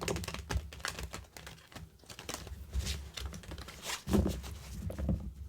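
Nigredo Tarot cards being shuffled by hand, a quick run of soft riffling clicks and patters in close succession with brief pauses, near and fairly quiet, with no talking.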